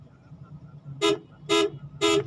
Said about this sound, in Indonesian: Jadi kita di sini klakson 3 kali, ada klakson panjang